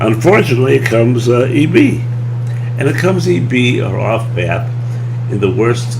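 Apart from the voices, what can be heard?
No distinct noise like a dog, phone or traffic.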